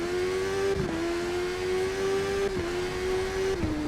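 A racing motorcycle opening up in the TT Isle of Man video game, its engine a loud, sustained whine that climbs and briefly drops at each of three gear shifts.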